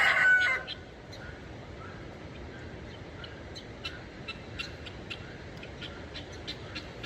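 Farm birds, including chickens, cluck and call faintly in the distance around a stable and dug-out ponds, scattered short calls over a steady outdoor background hiss with no speech.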